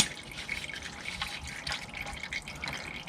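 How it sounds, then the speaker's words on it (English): Engine oil draining from a 2010-2015 Lexus RX350 into a pan, a faint continuous trickling and splashing of liquid, heard close up and alone without speech. "While the oil is draining still"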